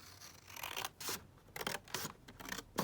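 Scissors trimming paper during a tidying and reorganising session, a series of short crisp snips and rubbing cuts in repeated bursts, close and moderately loud with no talk.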